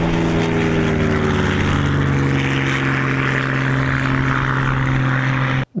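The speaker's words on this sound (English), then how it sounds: "it is probably the best sounding light aircraft engine configuration." A light aircraft's air-cooled six-cylinder engine runs loud and steady with a constant droning hum and propeller roar, close by, for several seconds before cutting off abruptly.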